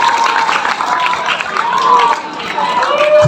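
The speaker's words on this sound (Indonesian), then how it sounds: "tepuk tangan untuk teman kalian" Classmates clapping for a child at a Maulid Nabi gathering, a dense burst of hand claps under a lively crowd murmur, with a voice talking over it.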